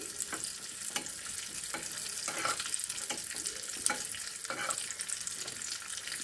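Raisins fry and sizzle in hot ghee for wheat flour halwa, a steady crackling hiss broken by the repeated scrape and clink of stirring, close and fairly loud with no talking.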